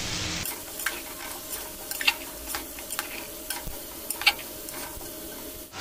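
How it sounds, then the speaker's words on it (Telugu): Broad beans being stirred in oil in a pan over low flame for a curry, with a steady close sizzle and soft scraping strokes of the spoon, plus a couple of brighter clinks against the pan. "ఇప్పుడు దీంట్లో చిక్కుడుకాయ వేసుకోవాలి. మంచిగా కలుపుకోవాలి."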